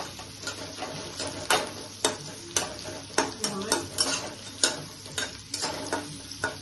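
Food fries and sizzles in a pan for a Bengali Afghani egg malai curry, with repeated sharp clattering stirs and scrapes over a steady crackle, close and fairly loud, with no one talking.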